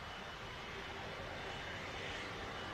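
A Virgin Atlantic Airbus A330 airliner bound for New York JFK passes overhead, a steady, distant broadband engine roar that holds evenly throughout without talk.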